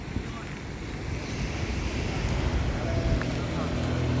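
The flooded Tungabhadra river rushes near a new bridge at Honnali with a heavy, continuous roar of churning water, loud and close, building gradually in strength with wind buffeting mixed in.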